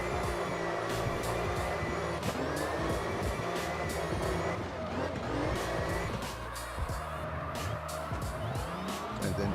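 Engine revving hard and tires skidding in CarX Drift Racing 2, with loud, continuous drift noise and the engine note rising and falling over screeching tires throughout.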